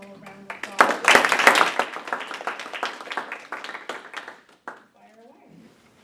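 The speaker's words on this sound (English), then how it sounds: "we should give them all a round of applause" An audience applauds a panel at a children's literature session, a burst of clapping that swells quickly, holds for a few seconds and then thins out into scattered claps.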